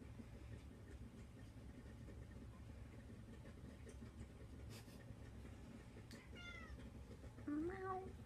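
A single short cat meow near the end, fairly close, over a quiet room with low background hum.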